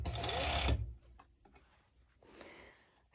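A sewing machine topstitching elastic on a one-piece swimsuit: a brief close whirring run of stitching that stops within a second, followed by quieter mechanical ticks and a faint second run.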